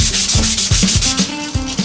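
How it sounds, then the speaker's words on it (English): Sandpaper from a roll, pulled shoe-shine style, rubs back and forth across a Telecaster guitar neck, close and loud, with rhythmic strokes about every few tenths of a second. "Sandpaper on a roll."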